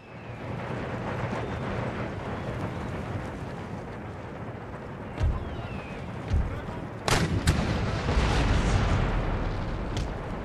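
Cannon artillery fire from the PC strategy game Total War: Empire, with booming shots thudding at intervals over a continuous roar of battle, the loudest blasts clustering near the end.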